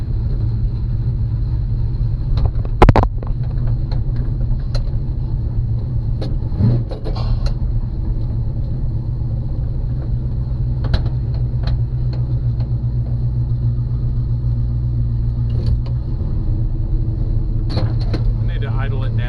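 A 1985 Chevy C10 short-bed truck engine runs steadily at a fast idle, a constant low rumble with a few brief clicks and knocks over it.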